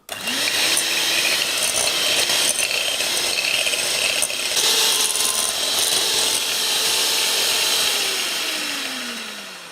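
Loud continuous whirring of an electric whisk beating dairy-free baking spread with plant-based cream cheese, a motor tone rising at the start and winding down at the end.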